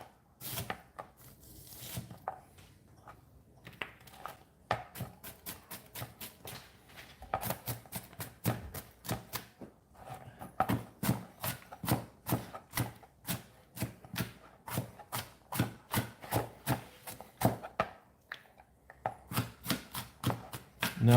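Sharp knife chopping onion on a cutting board, long runs of quick, even knocks close by, broken by short pauses, with no talking.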